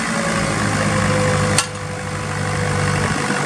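Gasoline engine of a compact Datsun FG103 3K pneumatic-tire forklift idling, a steady close mechanical drone with a low hum, broken by one brief sharp click partway through.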